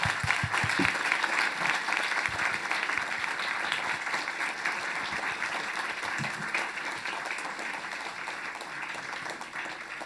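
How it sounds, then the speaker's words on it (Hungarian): Steady applause from a crowd at a talk event, sustained and even for the whole stretch, with no voices rising above it. "Szeretnék kérni egy nagy tapsot ennek a 3 tök fiatalnak."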